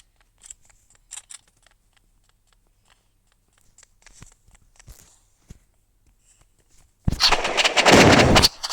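Gunfire in the Roblox game Rivals breaks out as a loud sustained burst near the end, after quiet faint clicks and footsteps.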